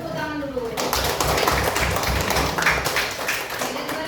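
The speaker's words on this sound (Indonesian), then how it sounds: "kasih tepuk tangan dulu" A Year 10 class at SMA Negeri 6 Pematang Siantar breaks into clapping, a burst of mixed hand claps and taps from students lasting several seconds, with voices talking over and around it.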